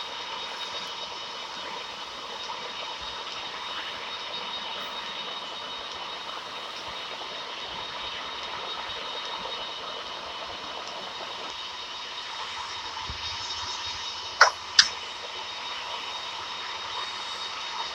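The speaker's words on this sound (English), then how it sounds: "One more successful engine start." A Boeing 747-400 engine runs with a steady, constant whine and roar, joined near the end by two sharp clicks.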